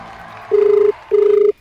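Two identical electronic ringback tones sound on an outgoing phone call, each about half a second long with a short gap between them, clear and loud over faint background murmur.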